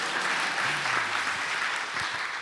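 Audience applause at a senior panel for a homeschool community, a steady wash of many hands clapping throughout at even loudness, with a faint tonal hum underneath.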